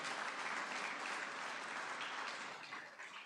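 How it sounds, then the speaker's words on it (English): An audience at a Democracy Day public lecture gives a lecturer a sustained round of applause, a dense, even roar of many hands that fades slightly toward the end. "Please, a big round of applause for our own DG."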